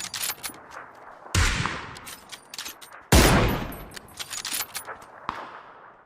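Gunfire in the PUBG battle royale game, two loud sharp shots with decaying reverberant tails among scattered faint clicks and rustles, fairly near and heard alone.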